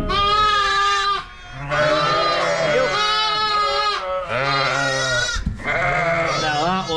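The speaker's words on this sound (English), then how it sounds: "There's some hellishly big lambs here." Lambs and ewes bleat loudly and repeatedly close by on a farm during lambing, with overlapping wavering cries in quick succession and only brief pauses.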